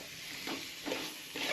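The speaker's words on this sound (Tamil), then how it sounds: "கடுகு, உள்ளி, ஜீரகம் மொத்தத்தையும் போட்டு வதக்கி எடுக்க தான்." Mustard seeds, garlic and cumin frying in hot oil for a fish curry, a steady sizzle with a few louder stirring swells, close and alone with no talk.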